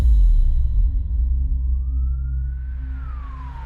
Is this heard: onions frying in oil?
no